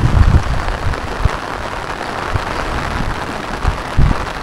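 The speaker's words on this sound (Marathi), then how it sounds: "पण हा पाऊस तुफानी आहे बघा." Heavy Konkan monsoon rain pouring down in a constant loud hiss, with low gusty rumbles and thumps of wind on the microphone, no voices.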